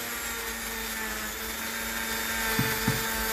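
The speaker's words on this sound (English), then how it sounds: "So these are a great tool just to clean up. Just polish the metal a little bit." Power tool polishing the metal seat where a new rear wheel bearing will be pressed on, a continuous close whirring grind with a steady hum and two brief knocks near the end, no talk.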